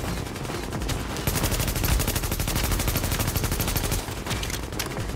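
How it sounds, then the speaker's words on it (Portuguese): Enemy gunfire in the video game The Division rattles in a fast, sustained automatic burst, loud and close, lasting several seconds before thinning out. "o cara não para de atirar não"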